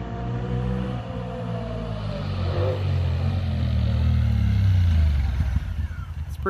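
A 2020 Honda Talon 1000x4 side-by-side approaches and accelerates, its engine rumble building and rising in pitch before easing off, with a faint voice briefly in the background.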